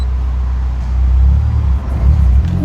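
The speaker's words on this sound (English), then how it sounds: "the exhaust of this car is, wow, it sounds really good." A Honda S2000 AP2 has a deep exhaust rumble at low speed in a car park. The note is steady and close, swells slightly as the car pulls away, and no one speaks.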